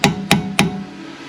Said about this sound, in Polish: Dobrze jest postukać.